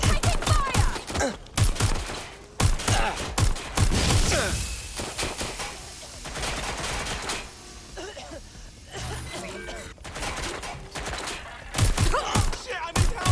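Bursts of gunfire crackle through a video game shootout, with rapid volleys and scattered shots coming in clusters, loud and close, mixed with shouted voices between the bursts.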